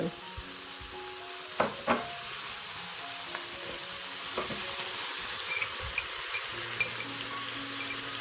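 Chili frying with diced white radish in a hot wok gives a loud, steady sizzle, with occasional sharp scrapes and clacks from stirring close by.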